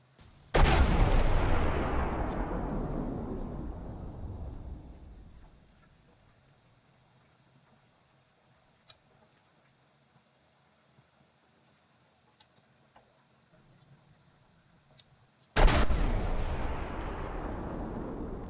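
Naval artillery shells fire in a video game, two massive booming blasts, each followed by a long rumbling decay, the first fading over several seconds before the second strikes near the end, loud and close.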